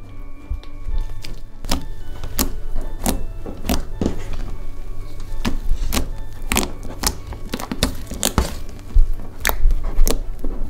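Thick, sticky slime being worked and squished by hand, giving repeated sharp wet slaps and pops at an irregular rhythm, close and fairly loud, with a steady low hum underneath.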